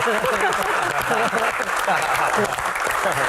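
Audience of panelists and university students at a comedy Q&A event applauding, dense steady clapping that fills the whole clip at close range, with voices mixed in.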